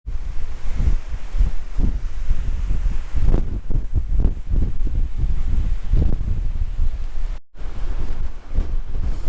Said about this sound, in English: I'm very glad that the breeze or storm or whatever is blowing me away from that edge